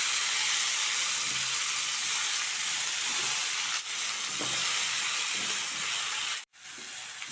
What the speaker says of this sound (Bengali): তো আমি সেই কারণেই কড়াইতে আরও নেড়ে নিচ্ছি।